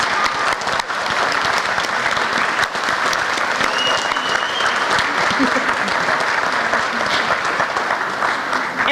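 An audience applauding honorees at a high school Rotary concert, dense sustained clapping from a large crowd, loud and even for the whole stretch with no pause.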